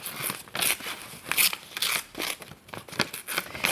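Paper is roughly cut and torn up close, giving a series of crisp, uneven rustling and snipping bursts in quick succession with no speech.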